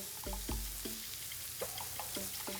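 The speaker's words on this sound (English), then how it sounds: "you can see how the melting fat makes the meat sizzle." Satay meat sizzles steadily in a hot pan as its fat melts, a soft crackling hiss with several sharp clicks and taps spread through it, close and fairly quiet.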